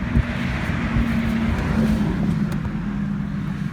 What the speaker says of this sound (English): I'm getting ready to fire this thing up for you, let you see it run